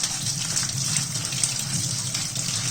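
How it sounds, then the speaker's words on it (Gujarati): Poha (flattened rice) being rinsed in water two or three times, a steady close gush and slosh of running water that continues evenly without talk. "એમાં આપણે પૌવાને ધોઈ નાખીશું સરસ 2-3 વાર."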